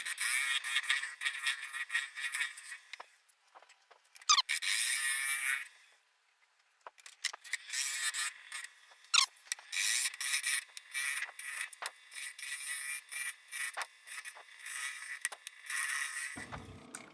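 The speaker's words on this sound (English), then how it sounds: "this big old bowl scraper," A large bowl scraper cuts a wooden bowl spinning on a lathe, giving a loud, continuous, harsh hiss that breaks off briefly midway and then resumes, heard close up with no voices.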